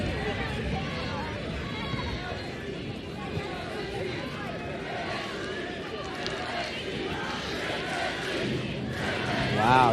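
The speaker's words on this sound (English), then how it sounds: "Wow, you got a full-on chant." Dense crowd noise at a TST 2025 men's group-stage soccer match between Nani FC and Drip FC in hot North Carolina, a loud continuous roar of massed voices that swells toward the end as the chant builds.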